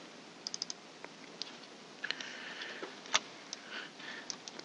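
Computer mouse clicking while working in SprutCAM software: several faint, sharp clicks in quick pairs and singles, spaced irregularly over a quiet room background.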